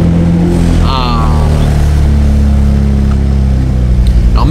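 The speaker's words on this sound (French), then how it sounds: "L'allumage des machines." A BMW 320iS car engine turns over and settles into a loud, steady idle close by, its low hum continuing throughout.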